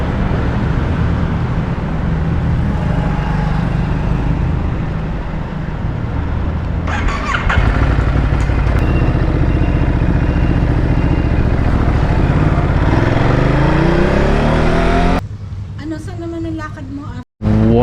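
A Ducati Multistrada 950S motorcycle engine runs loudly nearby with a steady rumble, then its pitch rises and falls as it revs, with people talking over it.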